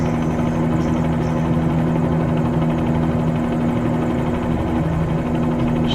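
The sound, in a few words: helicopter landing in Microsoft Flight Simulator 2020 video game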